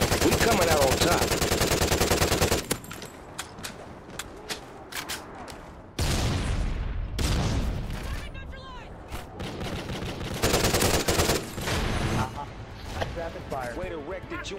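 Rapid automatic gunfire in the shooter Call of Duty: Ghosts, loud sustained bursts and scattered shots over several seconds, with people talking over the action.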